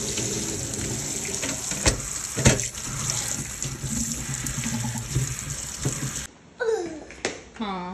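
Okra being rinsed under a running kitchen tap, a steady close rush of water with splashes and handling knocks that cuts off near the end, followed by a few clattering sounds.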